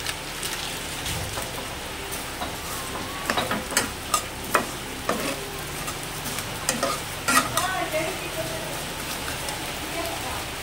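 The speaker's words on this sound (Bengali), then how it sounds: "ঘি দিয়ে সিমাইটা আমার ভাজা হবে।" Vermicelli frying in ghee in a kadai hisses steadily up close, broken by sharp scraping clacks as it is stirred, loudest in the middle stretch, with no one talking.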